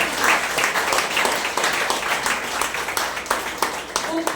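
Applause from a church congregation at a spiritual revival service, dense steady clapping that fills the room throughout, loud and close with some voices mixed in.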